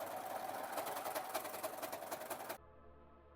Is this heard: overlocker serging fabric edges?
yes